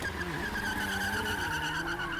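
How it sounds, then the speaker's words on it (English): An Oldsmobile's wheels spin in place and skid, a steady, loud tire squeal with engine roar running throughout, close and continuous with no talking. "Its wheels span in place"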